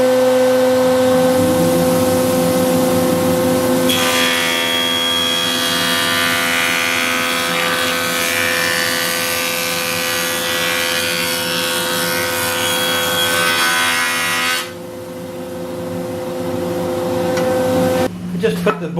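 A wood board is fed across a jointer in a woodworking shop: a steady humming motor drone, then about ten seconds of loud, rough cutting noise over the hum before the cut ends and the machine keeps running.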